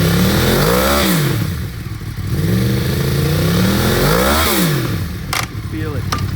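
A used 2014 Yamaha R1 superbike engine revs loudly up and down at close range, two sharp sweeping blips with idle between, followed by some mechanical clatter; a voice speaks over it.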